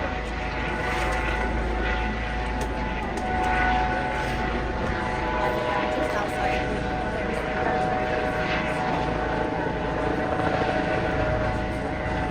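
Helicopters thrum steadily overhead, a continuous loud rotor drone that swells slightly at times.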